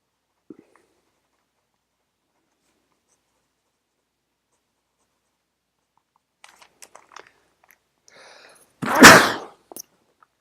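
One sharp, loud sneeze from a person breaks a near-silent room, preceded by faint scratches of writing.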